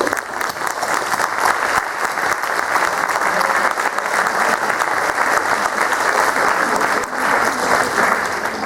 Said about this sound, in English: give a great applause to them